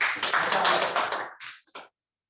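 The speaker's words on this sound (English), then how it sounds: "Give an applause for Ali again." A small workshop group gives Ali a brief round of applause, a short burst of close clapping that thins into a few scattered claps before stopping.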